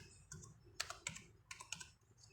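Keys on a computer keyboard clack in an irregular burst of about a dozen close, crisp presses, quiet and alone.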